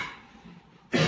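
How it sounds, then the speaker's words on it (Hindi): A single sharp cough bursts out at the end after near-silence, close and fairly loud. "इसकी खांसी ने तो हमारी रातों की नींद उड़ा रखी है"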